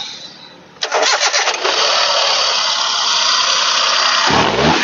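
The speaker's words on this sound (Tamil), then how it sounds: "இப்போ இன்ஜினோட நாய்ஸாக அப்படியே லைவாக கேளுங்க" A new car's engine cranks and starts up close, then settles into a steady loud idle with no one speaking.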